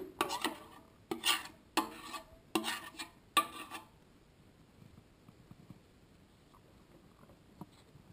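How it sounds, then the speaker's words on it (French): Melted chocolate being spread with a utensil over unrolled cake dough for a dulce de leche yule log: five quick rasping scrapes close by in the first few seconds, then near quiet with faint light taps. "J'étale par-dessus le chocolat fondu."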